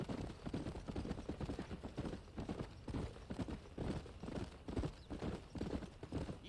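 Horse hooves clip-clop steadily along a trail while riding in Red Dead Redemption, a continuous rhythmic trot at close range with occasional snorts and no talk over it.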